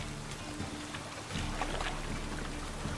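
Steady rain in a video game patters across surfaces with a soft background rush, occasional heavier drops standing out, fairly close and moderately quiet.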